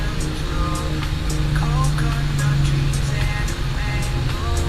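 A car engine hums steadily from inside the moving vehicle, a constant low drone with faint road noise that stays even the whole time, recorded by a GoPro with external microphones.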